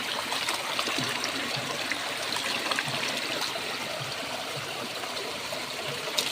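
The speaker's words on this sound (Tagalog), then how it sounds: "Sapa gani siya nga sapa. Ang kana siya nga tubig mga kois." Stream water flows steadily inside a cave, a continuous close rushing and trickling wash with no voices.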